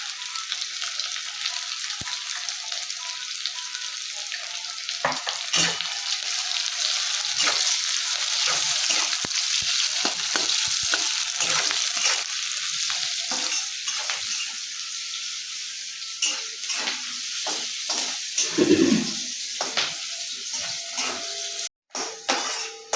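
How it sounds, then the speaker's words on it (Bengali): Onions frying with salt in a pan for a Bengali mutton curry, giving a steady close sizzle with stirring scrapes and light utensil clinks throughout, no talking. "আমার পেঁয়াজ ভাজা ভাজা হয়ে গেছে"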